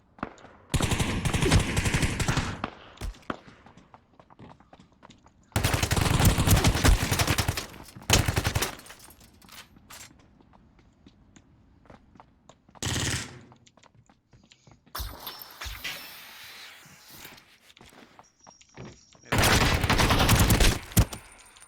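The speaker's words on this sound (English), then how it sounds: "I'm getting shot from like 3 directions." Bursts of rapid automatic gunfire in a first-person shooter game, several loud volleys spaced apart with scattered single shots and clatter between them, no talking.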